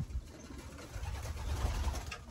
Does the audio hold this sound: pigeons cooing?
yes